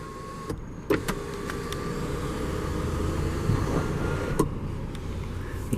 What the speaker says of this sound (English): Then once the shade is opened, which you can stop the shade at any point that you'd like, you can fully open the sunroof as well.